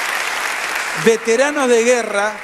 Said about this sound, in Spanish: Una multitud los fue a aplaudir.